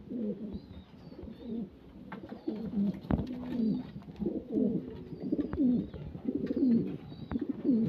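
Pigeons coo repeatedly in soft, low, rolling phrases, several birds overlapping at close range with a steady rhythm; the birds are imported show-breed pigeons in a loft.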